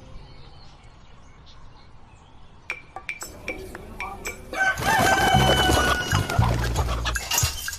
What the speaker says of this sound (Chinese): 有一群身形矫健的走地鸡